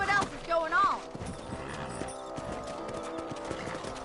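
Horse hooves clip-clopping in Red Dead Redemption, a steady quick rhythm of hoof beats on the ground, with a horse whinny near the start and a voice speaking over the first part.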